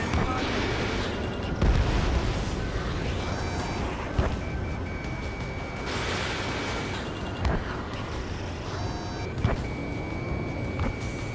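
Missiles launching and blasting apart in the jet combat game Ace Combat 7, with a steady roar of engines under sharp recurring bursts and a couple of tonal warning beeps.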